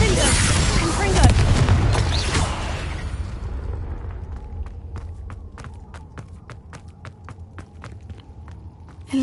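Confringo and Incendio fire spells in the Hogwarts Legacy video game, a burst of fiery blasts and crackling booms at the start that give way to sharp, evenly spaced ticks and clicks as the noise fades.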